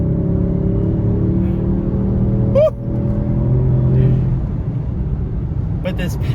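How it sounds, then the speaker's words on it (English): A 2016 Audi S7's 4-liter twin-turbo V8 drones steadily and loudly from inside the cabin while driving, with a brief dip partway through and no clear rise in revs. "It's got this 4-liter twin-turbo V8"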